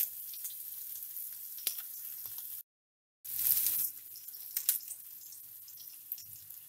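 Garlic, small shallots and curry leaves sizzle steadily in hot oil in a pan for a Kerala red spinach thoran, with a brief silent gap and a louder burst of frying as more goes in.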